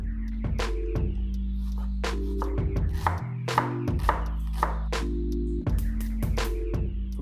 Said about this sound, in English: let's start chopping the onions